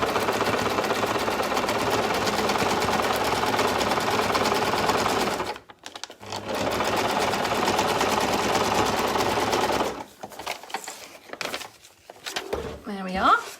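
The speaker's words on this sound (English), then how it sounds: "you're going to stitch that line as well" A sewing machine stitches a line across a lap quilt, a fast steady mechanical whirr close by. It stops briefly, runs again, then cuts off as a voice speaks near the end.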